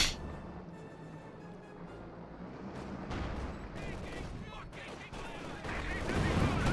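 Anti-tank guns fire at a T-35 tank during a Company of Heroes 2 battle, with repeated booming shots and crackling impacts under a rumbling battlefield bed that grows louder toward the end.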